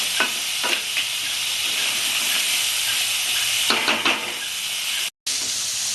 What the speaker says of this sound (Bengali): কাঁকড়াটা আমি একটু ভেজে নেব ভালো করে